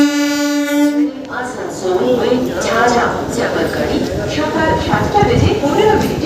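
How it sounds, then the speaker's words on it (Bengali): Burdwan–Jhajha MEMU passenger train number 63059, heard with a sustained horn blast at the start, then steady rumbling and clattering of the running train over which people talk throughout. "এটাই হলো আজকে আমাদের বর্ধমান ঝাঁঝা মেমু।"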